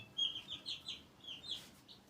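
Chickens and a rooster in a backyard coop give a string of faint, high, short calls, about eight quick notes in a row, heard at a distance with no talking.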